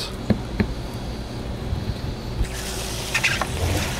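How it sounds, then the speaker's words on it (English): Water from a hose filling and flushing an RV toilet tank, a steady close trickling and splashing with a few sharp knocks, growing brighter and more splashy toward the end. "hook up the other water hose, turn it on, and start flushing the tank"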